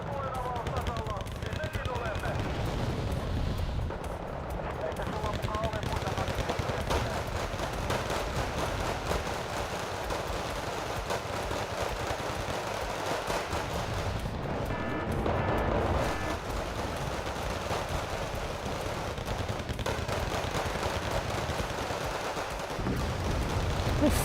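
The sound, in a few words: gunfire in Wargame Red Dragon video game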